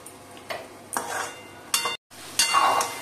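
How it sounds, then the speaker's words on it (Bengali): Ground spice masala with cumin and chilli powder frying in oil for moong dal, a close sizzle swelling in bursts as a utensil stirs and scrapes the pan, with a brief silent break. "এবারে আমি মশলাটা ভালো করে কষিয়ে নেব।"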